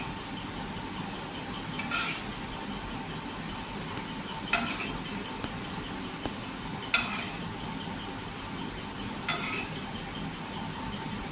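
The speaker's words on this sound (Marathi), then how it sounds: "आता ह्याला आपण पलटी करून घेऊया आणि तांबूस होईपर्यंत तळून घ्यायचं" Taro leaf fritters (alu bhaji) fry in hot oil with a steady, soft sizzle, punctuated every couple of seconds by a light metallic clink of a utensil as they are turned.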